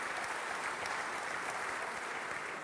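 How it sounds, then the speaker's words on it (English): Tepid applause from a conference audience at a general session in a large hall, a steady even patter of many hands clapping with no distinct peaks, moderately loud and sustained throughout. "Tepid applause."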